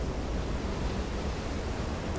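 Storm-driven ocean waves in Silent Hunter 3 wash around a surfaced WWII U-boat, U-8, as a constant, dense, loud rush of surf and wind with no break.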